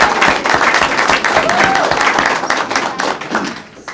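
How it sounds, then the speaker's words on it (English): An audience at a county board of commissioners meeting gives a warm round of applause for a young award winner, steady dense clapping filling the room and slowly fading toward the end. "So we'll give her a second round of applause."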